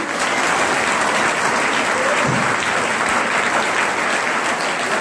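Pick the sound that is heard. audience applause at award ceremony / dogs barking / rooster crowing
audience applause at award ceremony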